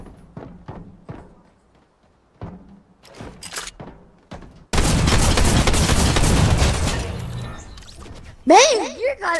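Six-shooter gunfire in a video game, with sparse thumps and clicks followed by a sudden loud, sustained burst of shots and game effects, ending in warbling electronic tones.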